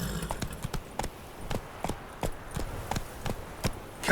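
Roach, a horse in The Witcher 3, trots with crisp, moderately loud hoof clip-clops in an uneven, steady rhythm, each strike sharp and distinct against a quiet ambient background.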